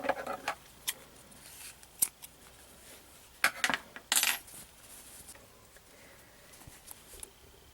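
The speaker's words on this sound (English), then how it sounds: "and now I can cut it free." Sharp snips and clicks of scissors cutting yarn free from a crocheted eyeball piece, a few quiet separate cuts with small clatters and handling noises in a quiet room.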